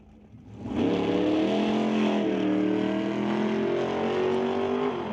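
A 1969 Corvette launches hard at a drag strip, its V8 engine roaring loud and close with a steady rising pitch for several seconds.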